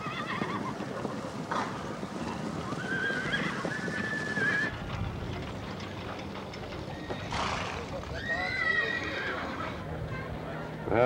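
Horses on a cattle drive neigh and whinny, with one call around the middle and another toward the end, over steady clip-clop of hooves and general outdoor bustle. No one speaks.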